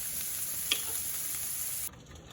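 Onions frying in a skillet for a spicy pork ragu make a steady, close hiss of sizzling with one small pop, cutting off abruptly near the end.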